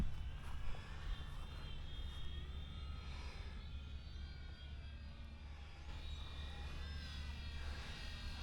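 A Tundra V3 RC airplane takes off from a bumpy runway and flies, its electric motor and propeller holding a steady whining drone at moderate distance, rising and falling slightly in pitch as it climbs.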